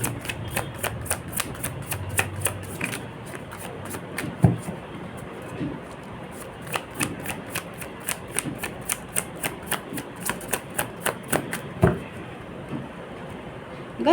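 Playing cards handled and drawn one at a time during a card reading, making a long run of quick, crisp clicks and snaps at a steady, fairly close pace, with some brief pauses and no talk over it.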